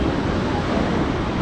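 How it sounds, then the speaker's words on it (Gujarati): Gomti river water at Gomti Ghat in Dwarka, near where the river meets the sea, gives a steady, loud, close rushing wash with no breaks. "આ ગોમતી નદી છે એ આગળ સમુદ્રમાં મળે છે."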